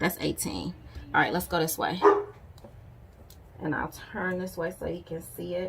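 A pet dog barks and yips in short bursts in a room, mixed in with someone talking nearby.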